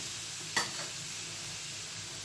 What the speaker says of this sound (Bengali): এটা একটুখানি ভালো করে লাল করে ভেজে নিই